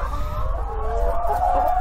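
Aging laying hens in a poultry house cluck and trill together in a dense, continuous chorus, close and fairly loud, with no one talking.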